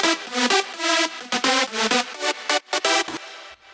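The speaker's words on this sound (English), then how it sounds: "the second thing I added was this chord fill here." A bright, detuned synth chord fill for a big room EDM drop, short stabbing chords in a choppy rhythmic pattern, loud and alone with no voices.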